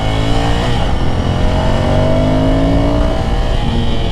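A Ducati Scrambler 800 Café Racer motorcycle is ridden through traffic, its engine droning steadily up close and rising slightly in pitch as it pulls along, heard alone.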